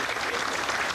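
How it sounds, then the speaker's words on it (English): An audience at a Peace Bell ceremony applauds as foreign ambassadors and representatives enter the ceremonial hall, a dense, even wash of many hands clapping at once. "The sponsors and Japanese participants applauded the foreign ambassadors and representatives as they entered the"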